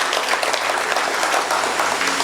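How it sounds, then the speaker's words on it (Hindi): Sustained audience applause at a Hindi hasya kavi sammelan comedy poetry event, a dense steady wash of many hands clapping loudly throughout with no break. "ताली बजा के बताओ एक बार भी"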